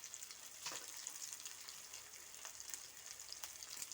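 Onions frying in a pan give off a steady, moderately loud high sizzle, with a few sharper crackles and faint stirring taps coming through now and then.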